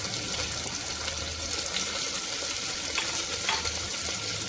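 Chopped onion, chili and cabbage sizzling in hot oil, a steady close frying hiss with faint scrapes of stirring, no voices.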